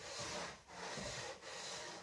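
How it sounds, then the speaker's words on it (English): Guitar timber sanded by pushing a sandpaper jig forward across the edge of a workbench, three steady rasping strokes with short pauses between, close and fairly loud with no talk. "Once the piece is in the jig and you've got the sandpaper on here, it goes on top and simply slides forward like that."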